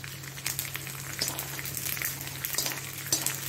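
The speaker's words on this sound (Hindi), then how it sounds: "तो अभी इसमें हमने जो गोंद लिया था वो ऐड करने वाले हैं। हम उसमें डालेंगे, इसको फ्राई करना है हमें एक्चुअली।" Gond, an edible gum, sizzles and crackles steadily in hot ghee, with a constant frying hiss and occasional louder pops and stirring scrapes close by.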